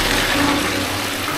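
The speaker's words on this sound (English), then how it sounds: "Flush really well, no issue." A toilet in a house under construction in Nigeria flushes with a loud, close rush of water that fills the whole moment without any talk.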